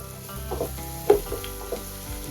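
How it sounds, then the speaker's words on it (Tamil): Ginger and garlic paste fries in hot oil for an intestine curry, a steady close sizzle with a few soft stirring knocks. "இப்போ வந்து குழம்புக்கு தேவையானது கொஞ்சம் இஞ்சி பூண்டு போட்டுக்கலாம்."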